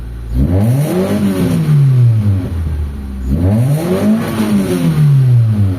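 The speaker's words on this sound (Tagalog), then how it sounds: "So ngayon mga bossing, i-rev natin." The engine of a Mitsubishi Lancer, recently repaired for low power, revs up twice. Each rev climbs and then falls back, loud and close, with no speech.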